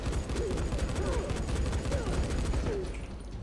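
Rapid gunfire bursts in the zombie video game Dying Light, fairly faint and steady in a rolling volley, with faint voices underneath.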